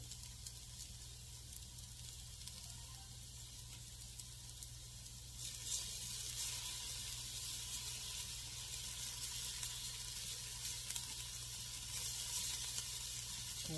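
Garlic sizzles in a pan as it is stirred for homemade yellow rice: a steady, close frying hiss that grows louder about halfway through, with no talking.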